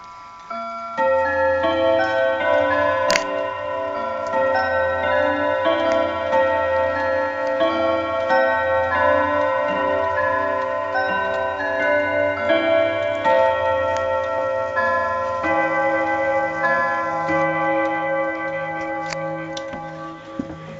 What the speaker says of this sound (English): My Gustav Becker chiming and striking.